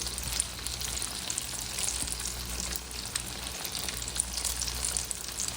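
Pickles fry in hot grease in a skillet, giving an even, moderately quiet crackling sizzle throughout, with no speech.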